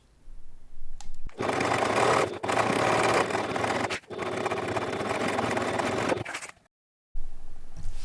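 A sewing machine stitches a bag gusset in long, loud, continuous runs close by, broken by brief pauses and a silent gap before it starts again, with no talking.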